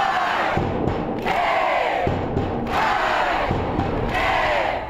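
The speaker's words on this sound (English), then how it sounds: "The defending state champs get a big entrance and a big crowd at the big game." A big crowd roars and cheers as the defending state champion Lake Stevens high school football team makes its entrance at a big game, a loud, continuous wall of voices with swelling shouts.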